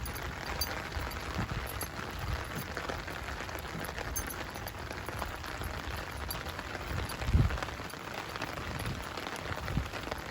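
Rain falls steadily around someone walking under an umbrella, a dense, even hiss with a few soft low thumps of footsteps, close and continuous, with no talking.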